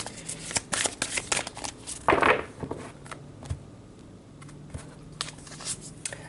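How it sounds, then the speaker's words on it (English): Tarot cards are shuffled and drawn near at hand in a quiet room, with crisp riffling bursts and sharp card snaps coming in an irregular rhythm. "So let's pull two cards here."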